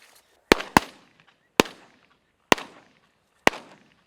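Shotgun shots ring out during bird wing shooting in South Africa: five sharp, loud reports spaced irregularly, each with a short decaying echo outdoors.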